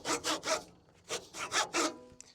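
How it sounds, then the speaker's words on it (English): A handsaw cuts through pallet wood with brisk, close strokes, three quick rasps, a short pause, then four more, with no talking. "I'm punishing myself by cutting with a handsaw"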